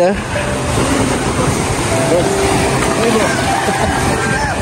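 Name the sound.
strong sea waves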